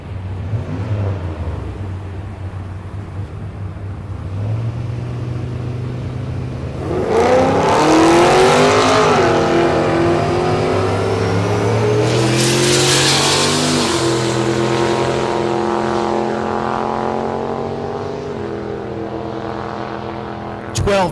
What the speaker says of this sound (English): Here's Austin Kanka back in the G8. Ronnie Steffen in the right lane, the Silverado.